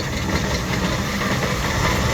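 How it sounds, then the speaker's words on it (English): Small vintage Aveling tractor, formerly a steamroller, with its engine running in a steady, loud, rumbling chug and no clear pauses or voices. "The little Abeling tractor which is following on used to be a steamroller in days gone by."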